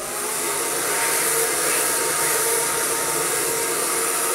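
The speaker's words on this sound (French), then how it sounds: "Moi, je laisse jamais mon sèche-cheveux trop longtemps sur la brosse hein, pour pas qu'il crame." Hair dryer blowing on hair wrapped around a round brush during a smooth blow-dry, a loud, steady, continuous whooshing roar, close and uninterrupted.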